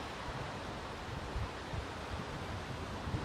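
Wind blows outdoors at an archery range, a dull, continuous rushing hiss with soft low rumbling puffs against the microphone, moderately loud and steady for a few seconds without any voices.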